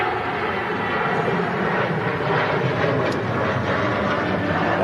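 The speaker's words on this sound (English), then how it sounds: "Wow, super climb from the Ryanair." A Ryanair jet airliner climbing steeply after takeoff gives a steady, broadband engine roar that holds at an even loudness throughout, with no talk over it.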